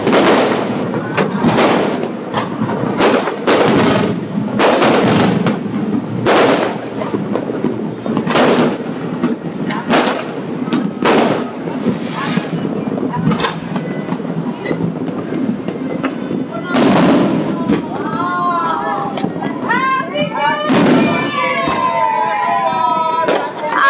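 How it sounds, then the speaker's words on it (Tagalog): New Year fireworks burst at a building display in Pasig, with repeated sharp bangs and crackles spread through the clip, some loud and close, and a voice talking over them. "Napakaganda ng nakikita nating fireworks"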